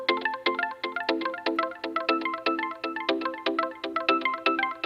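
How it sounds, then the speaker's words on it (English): Muted, plucked synth guitar notes from the Nexus Pluck preset repeat in a quick, bouncy melodic pattern, washed with delay echoes and reverb, clean and moderately quiet with no voices. "that's the Nexus Pluck Muted guitars"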